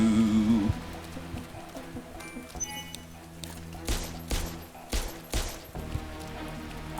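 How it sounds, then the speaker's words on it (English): Explosions and bursts of gunfire from the horror shooter game Parasite Mutant, several heavy booming blasts landing in an irregular run over a rumbling background, with no one talking. "Explosions!"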